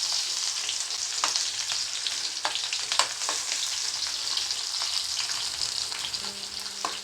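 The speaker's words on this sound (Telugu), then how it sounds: "ఆయిల్ బాగా వేడెక్కిన తర్వాత ఫస్ట్ ఆనియన్స్ వేసుకోవాలి." Onions frying in hot oil in a pan, a steady close sizzle with occasional stirring scrapes throughout, no voices.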